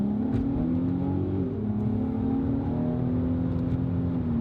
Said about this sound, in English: The engine screams to life. Like, it sounds so good. This is a completely stock exhaust, stock intake, stock everything